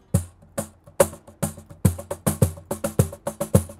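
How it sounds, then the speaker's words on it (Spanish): A cajón is played by hand in flamenco style, alternating deep bass thumps and sharp slaps in a lively, syncopated rhythm that gets busier toward the end. "se quedó impactado por el sonido del cajón"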